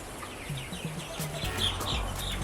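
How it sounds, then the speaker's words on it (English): Three-week-old chicks give soft, high peeping chirps close by, with a few low clucks underneath, against a quiet background and no talk. "My first chicks, 3 weeks old, and looking forward to a journey of raising chickens."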